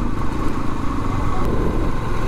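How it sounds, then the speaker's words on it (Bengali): A motorcycle rides close behind on a road through Lawachara National Park in Sreemangal, its steady engine rumble continuous and fairly loud throughout. "আমার পিছনে বাইক আছে"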